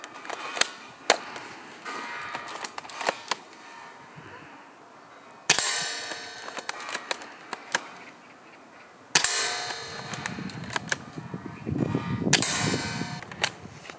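Magazines clicking and clacking into an Academy AWM airsoft sniper rifle, several sharp metallic snaps and rattles spaced across the stretch with handling noise between, close and fairly loud.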